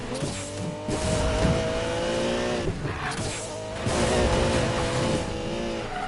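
A Lamborghini Murcielago supercar in the Need for Speed Payback racing game roars at high revs while its tires squeal and skid through tight handbrake turns, loud and continuous with surging engine swells.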